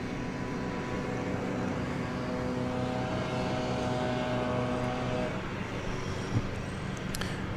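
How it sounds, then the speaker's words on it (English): Alaska Airlines Boeing 737-9 jet at DFW Airport, a steady broad engine roar with a low droning hum that holds evenly, then eases slightly toward the end, heard from a distance. "There's what you call an Alaska Airlines Flight 543. It is off to Seattle on that 7379."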